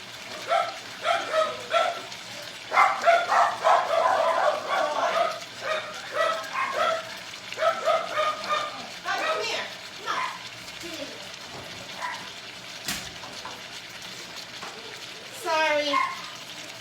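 Several dogs bark and yip in excited bursts, close by, tapering into scattered yelps and a high whimpering whine near the end.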